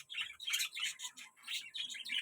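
Young pigeons kept in a home loft give quick, high chirping calls that come in close, repeated bursts with brief pauses between them.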